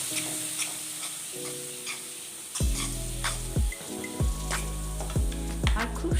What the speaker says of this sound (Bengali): এবার এতে আমি একটু হলুদ দেব, একটু লঙ্কা দেব।